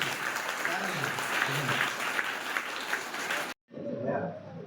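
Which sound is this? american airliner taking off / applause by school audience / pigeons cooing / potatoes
applause by school audience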